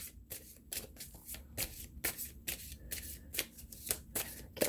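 Oracle cards are shuffled by hand, a quiet, close run of repeated riffling flicks and soft slaps in a quick irregular rhythm, with no talking over it.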